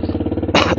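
A Bajaj Dominar 250 motorcycle is started: the starter cranks in a fast, even chug for about half a second before the engine catches with a loud, broad roar, close up.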